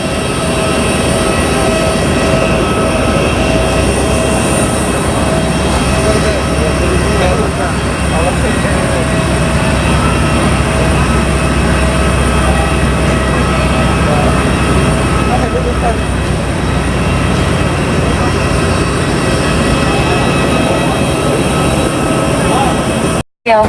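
Loud, steady drone of airplane engines heard from inside the cabin on a flight from Agartala to Guwahati, a constant roar with a voice speaking faintly underneath.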